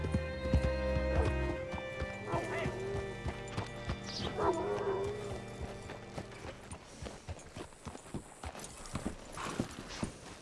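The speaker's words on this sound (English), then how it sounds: "Hitch your horse up here." Horse hooves clip-clop in an uneven rhythm at moderate distance in the video game Red Dead Redemption 2, with a horse whinnying and snorting early on over faint background music.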